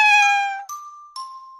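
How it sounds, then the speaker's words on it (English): A small gray cat gives three meows: a long, clear first call followed by two shorter, thinner ones, close and alone with nothing else around them. "you might see a little cat called Boo peeking out from the window"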